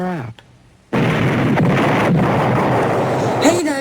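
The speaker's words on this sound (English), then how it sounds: "that explosion was so amazing, it made everything go blood red and three-dimensional" A voice breaks off, then after a moment of quiet a loud, sustained explosive roar from the animated film Fritz the Cat rumbles for several seconds before another voice cuts in.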